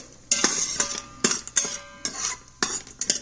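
A utensil stirs cashews roasting in melted ghee inside an Instant Pot, giving repeated metallic scrapes and clinks against the pot in an uneven rhythm over a soft sizzle, close and clear.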